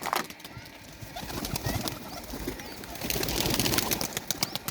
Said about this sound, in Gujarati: ચાલો તમે જોઈ શકો છો આપણા કબૂતર બધા બહાર આવે છે અત્યારે હાલમાં